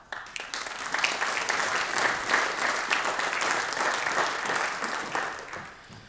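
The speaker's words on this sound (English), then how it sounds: "Thank you for the applause beforehand." A church congregation applauds steadily for about six seconds, a dense wash of many hands clapping close to the listener that swells and then tapers off at the end.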